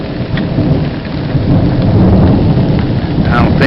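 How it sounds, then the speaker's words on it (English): A thunderstorm rumbles loud and low while heavy rain pours down steadily, close by and filling the whole stretch, with no talking. "We haven't had thunderstorms and lightning like this in ages. Oh, now it's starting to come down."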